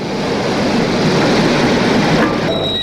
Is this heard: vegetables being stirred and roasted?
no